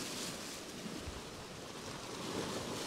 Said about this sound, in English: I did not account for the wind in deciding to come out, but it's very windy.